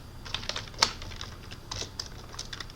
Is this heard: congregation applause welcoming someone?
no